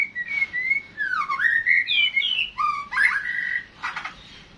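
A young white-rumped shama sings a varied run of clear whistles, sliding notes and quick chattering phrases, close and lively with short pauses between bursts.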